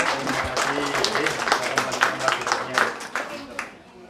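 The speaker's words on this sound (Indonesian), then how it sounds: "Tepuk tangannya mana untuk anak-anak?" Audience at a religious gathering applauds for the children, a short burst of mixed clapping with voices talking over it, tapering off after a few seconds.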